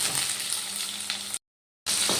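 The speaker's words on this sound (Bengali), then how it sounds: "এবার এই ঝিঙেগুলো আমি ভালো করে ভেজে নেব" Ridge gourd sizzles and crackles in hot oil, a close steady frying hiss that cuts out briefly before resuming.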